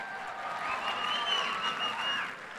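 An audience claps in applause at a talk in Brazil, a dense, even wash of hands that holds steady for a few seconds without speech over it.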